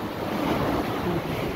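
Strong ocean waves surge and crash at Sombrero Island, a steady, loud broadband roar of surf with wind buffeting the microphone throughout, no voices present.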